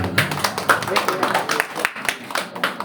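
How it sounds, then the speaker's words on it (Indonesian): A smattering of audience hand claps patters unevenly nearby at an Islamic New Year 1448H commemoration in Brunei, with voices talking over the clapping. "Kayak nggak rela gitu tepuk tangannya."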